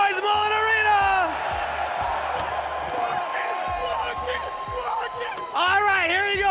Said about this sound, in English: Make some noise, Mullen Arena.